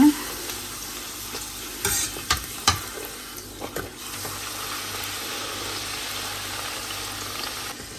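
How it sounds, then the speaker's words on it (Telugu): Puris deep-frying and puffing up in hot oil, a continuous moderate sizzle with a few sharper splashes and clinks early on, close by and without talk. "నూనె బాగా కాగినప్పుడు ఇలా వేస్తే పూరీలు ఇలా పొత్తుకుంటూ వేస్తే ఇలా పొంగుతాయి"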